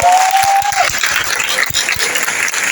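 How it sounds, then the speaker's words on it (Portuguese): A church congregation applauding during a women's worship service, loud, continuous clapping from many hands with a brief high tone fading early on. "Vamos aplaudir o Senhor."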